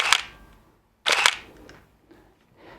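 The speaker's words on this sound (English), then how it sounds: "Very nice and assuring sound that you can really hear that the shutter is doing something, does its work" A Nikon F90X SLR film camera fires its shutter twice, each a crisp, loud mechanical click-clack close by, the second followed by a softer whir of the film winding on.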